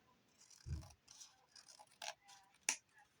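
Scissors trim something with a few quiet, close snips and light scraping, spaced irregularly over a hushed background with no talking.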